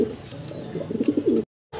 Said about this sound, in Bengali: এখানে এটা সিরাজিনা লাহোরি ভাই, লাহোরি কবুতর।